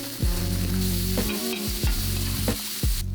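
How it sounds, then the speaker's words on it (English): Mushrooms browning over high heat in a pan on an open fire, a loud close sizzle broken by several rhythmic stirring scrapes across the pan. "Keep the high heat and brown the mushrooms to a mahogany color."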